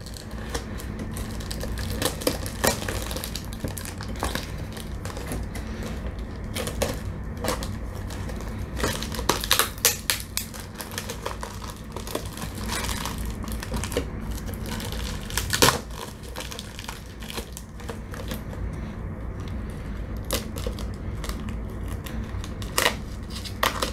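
Heavy packing tape being torn and peeled off a cardboard box holding a Shimano Deore bicycle derailleur, with repeated crinkling, ripping and crunching bursts in an uneven rhythm, close and fairly loud throughout.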